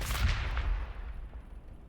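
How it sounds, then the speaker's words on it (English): A frag cannon bombardment lands in Warhammer 40,000: Battlesector with a loud, deep blast up front, then fades out into a dull rumbling tail. "Yeah, let's go frag cannon here. Frag bombardment commencing."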